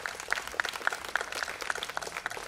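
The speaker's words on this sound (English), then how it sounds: "I just want all of us to just give them a huge applause" Applause from an event audience at a trailer launch, a steady patter of many hands clapping at moderate distance, fairly faint and continuous throughout.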